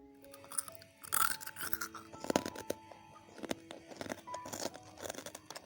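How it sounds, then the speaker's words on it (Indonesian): Crunchy Indonesian Eid cookies (kue lebaran) made from three ingredients are bitten and chewed up close, giving a run of crisp crunches and crackles over several seconds with no talking. "teksturnya itu renyah banget"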